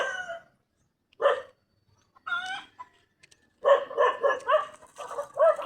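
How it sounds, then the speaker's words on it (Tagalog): Several dogs bark in short bursts around a rural yard after a typhoon, the barking growing into a busier, overlapping chorus near the end. A rooster seems to crow among the barks. "Maraming asong tumatahol ngayon dito."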